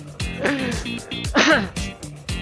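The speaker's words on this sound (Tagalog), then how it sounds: "Sabay ubo." Several harsh throaty bursts, coughs or throat clearing, come in an irregular series, close and fairly loud, with a heavier burst in the middle.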